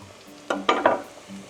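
Garlic hits a pan of browned onions for a baked rice dish, giving a few short bursts of stirring and sizzle close by, three quick scrapes and crackles against a quiet background.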